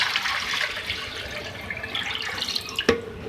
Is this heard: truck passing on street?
no